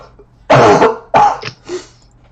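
Throat clearing and coughing from someone with a head cold, two loud harsh rasping bursts followed by a softer third, close and alone in a quiet room.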